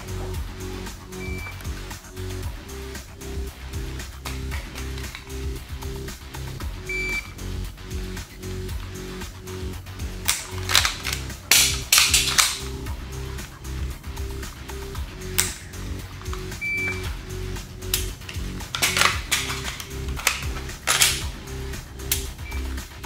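Someone dry fires a handgun, and sharp mechanical trigger clicks repeat at intervals over a steady low background hum. A few louder clusters of clicking and snapping stand out near the middle and toward the end.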